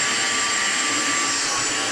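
A Dyson cordless vacuum cleaner runs in turbo mode, a loud, steady high-pitched whine and rushing airflow that holds constant and close throughout, with no voices.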